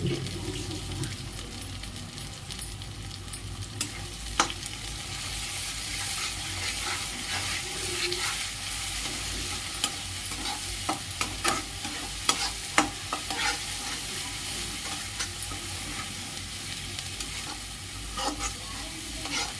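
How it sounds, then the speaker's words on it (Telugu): Ground masala paste stirred into well-fried onions in a pan, a continuous low sizzle with repeated scraping and clinks of a spoon against the pan, heard alone over a long stretch. "బాగా వేగిన ఉల్లిపాయల్లో వేసి కూడా ఆ ముద్ద అయితే గ్రైండ్ చేసుకొని పెట్టుకున్న ఆ పేస్ట్ అయితే వేసి కూడా బాగా కలుపుకోవాలి"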